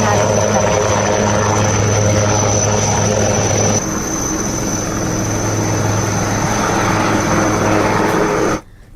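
A helicopter recovering a body from a river island during flooding in India gives a steady, loud rotor and engine drone that runs throughout, with a voice talking over it.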